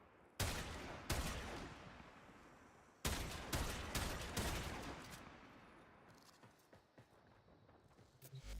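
Sniper fire from the Perigale Prime in a video game, with two sharp, loud shots followed by reverberating, decaying bursts and mechanical clatter, and no talking.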